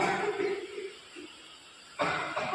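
A woman coughs during a street play about tuberculosis, one short harsh burst near the start and another around the middle, followed by a louder noisy rush at the end.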